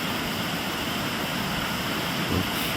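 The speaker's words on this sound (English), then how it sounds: "De La Beche, one of the many waterfalls." De La Beche waterfall on Haida Gwaii in misty, rainy weather, a steady broadband rush of falling water roaring continuously and loudly, close by, with no voices.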